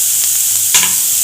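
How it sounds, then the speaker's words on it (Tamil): Ginger garlic paste sizzles loudly in hot oil in a pan for Indian home cooking, a close, steady hiss with a brief flare as it is stirred, no talk. "இஞ்சி பூண்டு பேஸ்ட்டு போடுறோம்."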